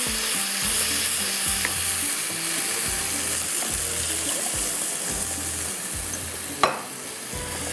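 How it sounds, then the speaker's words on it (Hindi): Beef stew mixture being stirred in a pot, a continuous bubbling sizzle with a regular low scraping rhythm from the spoon, and one sharp clink near the end; no talking. "अब इसको आपने अच्छी तरह से इस तरह से चलाते जाना है ताकि इसकी गुठलियाँ भी ना बने"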